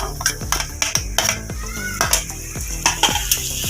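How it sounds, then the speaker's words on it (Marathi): Chopped cabbage, carrot and capsicum are sautéed in oil in a pan over a low flame, with a steady close sizzle broken by repeated sharp scrapes and clacks of a spatula stirring against the pan. "या भाज्या आपल्याला असं चांगल्या परतून घ्यायच्या."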